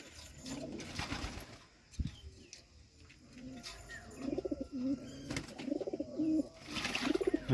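Pigeons bathing in turmeric water coo softly and shuffle, with occasional splashes and wing flutters at close range, the calls growing busier toward the end.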